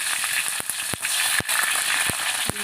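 Onions dropped into hot oil already crackling with cumin and mustard seeds, a steady loud sizzle with sharp pops and spatters close by, no voices.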